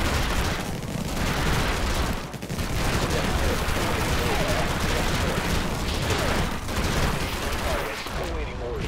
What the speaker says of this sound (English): Alright, fire at those turrets.